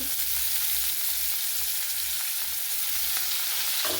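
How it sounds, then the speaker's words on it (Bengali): Chopped onions fry in a pan of oil tempered with whole garam masala and bay leaves, an even, close crackling sizzle throughout with a few light stirring knocks. "পেঁয়াজ কুচিটা ভেজে নেবো।"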